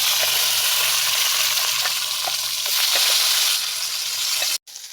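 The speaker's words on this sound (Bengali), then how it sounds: "এবার সিমগুলো ভেজে নেব" Flat beans frying in hot oil in a pan, part of a vegetarian Bengali meal with spinach and assorted fries; a steady, loud broadband sizzle runs throughout with small crackles and pops, then cuts off abruptly near the end.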